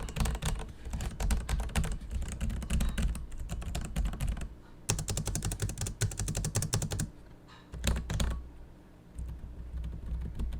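Typing on the mechanical keyboard of an MSI Titan G77 laptop with Cherry tactile switches: rapid, close clacking keystrokes in steady bursts, with brief pauses between runs.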